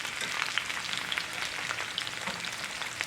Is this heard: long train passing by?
no